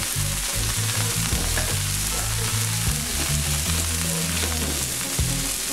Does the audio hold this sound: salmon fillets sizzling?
yes